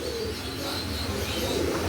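Pigeons coo steadily and close by, their low throaty calls mixed with a few faint chirps, and no talking.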